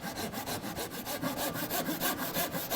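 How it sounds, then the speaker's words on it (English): A hand saw rips along the grain of rough wooden stock inside the kerf, making quick, close, evenly repeated rasping strokes with no voices over them. "I will lay the saw down into the kerf"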